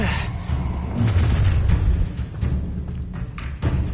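Spell effects cast in the Hogwarts Legacy video game, a series of whooshing bursts and heavy thuds with booming impacts, loud and close, following one another over a few seconds.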